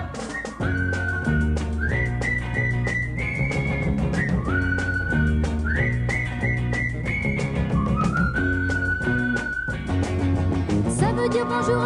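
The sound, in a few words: friends' call whistled tune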